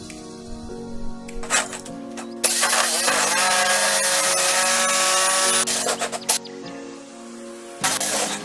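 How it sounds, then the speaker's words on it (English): A jigsaw buzzes loudly through wood in long continuous runs, pausing briefly between cuts, with a harsh rattling whine close by. "I went in with the jigsaw and connected the dots"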